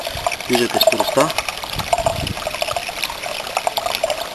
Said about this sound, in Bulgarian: Много е важно да се регулирате подаването на водата, която минава през този отвор, който го виждате.